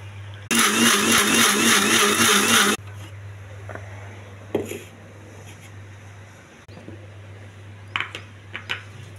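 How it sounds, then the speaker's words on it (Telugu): A mixer grinder whirs loudly and evenly as it blends grapes with tap water for juice, running for a couple of seconds before stopping abruptly, followed by quieter clatter and handling noises over a steady low hum. "మిక్సీ వేస్తున్నాను."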